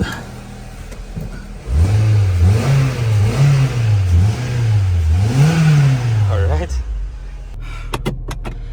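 A Honda Civic FD engine with a repaired exhaust hanger turns over and revs up and down several times in rising and falling surges, loud and close, then cuts off, followed by brief clicks.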